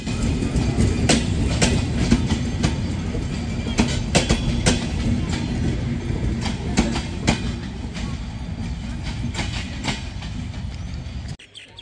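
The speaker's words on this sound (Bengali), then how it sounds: "ট্রেনটি ছেড়ে যাচ্ছে ঢাকার উদ্দেশ্যে তার দ্বিতীয় যাত্রাবিরতি স্টেশন ঈশ্বরদী বাইপাস রেলওয়ে স্টেশনের অভিমুখে।" Silk City Express passenger train pulling out toward Dhaka, its steady rolling rumble overlaid with a rapid run of clickety-clack wheel beats on the rails, loud and close throughout before cutting off abruptly at the end.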